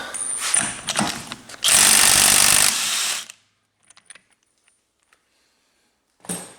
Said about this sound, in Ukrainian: гайковерт